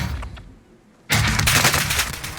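Gunfire in the video game Warzone breaks out after a quiet second: a sudden, loud, sustained burst of rapid shots that keeps going to the end.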